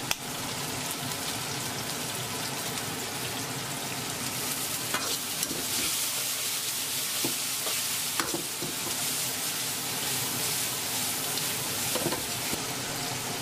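Chongqing hot pepper chicken stir-fried in a wok with sesame oil, a continuous dense sizzle with scraping and tossing clatter from a spatula, several sharper clanks standing out, no voices.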